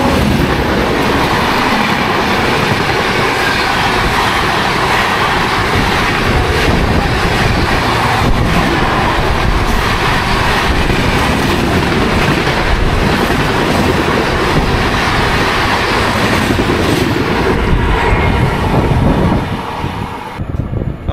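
Mail trains rush past the stationary Bagh Express waiting on a loop line at Paramanandapur station, a loud, sustained roar of wheels and rattling coaches with clickety-clack rhythm that holds for about twenty seconds before easing off.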